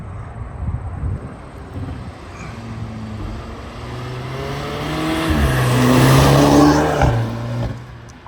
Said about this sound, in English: this thing actually has a really fantastic exhaust note